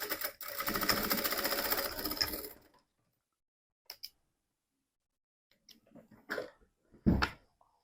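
A sewing machine runs steadily for about two and a half seconds, stitching and backstitching the seam of a fabric bag, then stops; a few scattered clicks and light handling noises follow.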